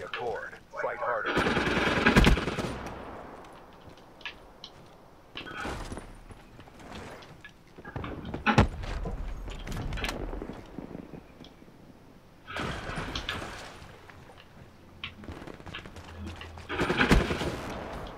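Bursts of automatic gunfire and single shots crackle in a Call of Duty: Black Ops 3 hardcore match, coming in several loud clusters separated by quieter gaps while players talk.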